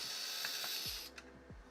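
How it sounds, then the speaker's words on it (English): Bolt screw being removed from a Skywalker V1 lamp, a short run of close mechanical clicks and ratcheting turns, fairly quiet and heard alone. "you can just remove this bolt screw right here"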